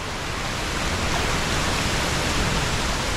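Nanemachi waterfall in the Sahyadri hills roars up close as a loud, steady wash of rushing water with no break and no voices.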